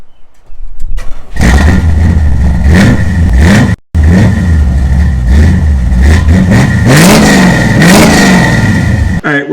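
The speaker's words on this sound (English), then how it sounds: "I'm going to go fire this up for you right now and see how loud these are." A 2006 Jeep Wrangler with a FlowMaster cat-back exhaust starts up and revs repeatedly, loud and close, with rising and falling engine pitch, a brief cut near four seconds, then more throttle blips before stopping.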